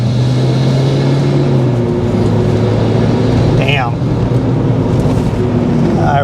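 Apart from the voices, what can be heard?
Flyin Miata tuned Mazda Miata driving, engine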